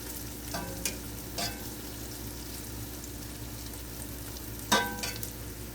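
Beef and potatoes fry in a pot for a stewed beef dish, giving a steady low sizzle with a few scattered clinks and scrapes as a utensil stirs, the loudest knock coming near the end.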